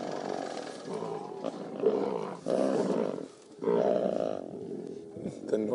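Several lions of the Styx Pride roar and growl over a fresh kill, with deep, loud, repeated bellows broken by short pauses and faint voices nearby.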